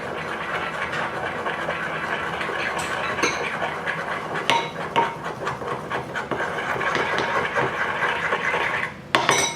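Chocolate melting in a pan is stirred with a utensil, giving steady close scraping and rubbing against the pan with a few sharper clinks, continuous throughout without speech.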